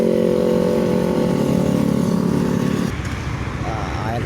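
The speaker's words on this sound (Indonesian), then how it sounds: "Ini sepanjang Jalan Soekarno-Hatta Palembang juga terpantau macet." Stop-and-go traffic jam on Jalan Soekarno-Hatta in Palembang: a loud, steady engine drone close by that drops and thins out about three seconds in, with a voice talking over it.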